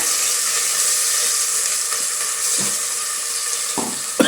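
Ground spice paste for a spicy vegetable dish sizzling in a pan of hot oil: a continuous close hiss with a couple of soft clatters near the end.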